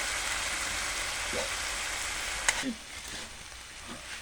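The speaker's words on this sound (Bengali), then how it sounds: "আর কিছু আমি পটল আর আলু ভালো করে কষাই নিচ্ছি।" Potatoes and pre-fried pointed gourd sautéing in a pan, a steady broad sizzle with a sharp knock midway, after which the frying turns quieter.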